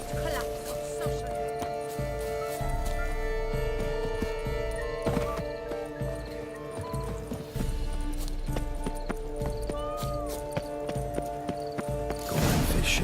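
Horse hooves clip-clop steadily in The Witcher 3 over game music and ambience, with a voice speaking in places.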